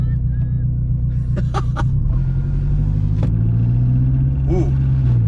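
Turbocharged 8th gen Honda Civic engine and exhaust, a steady low rumbling drone from inside the car, rising slightly as it pulls, with people talking and brief clicks over it.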